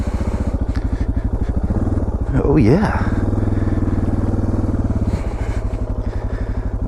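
A 326-pound dual-sport motorcycle stuck in a hole off road, its engine chugging steadily up close with a rhythmic thump, briefly revving higher as the rider strains to free it, someone speaking over it.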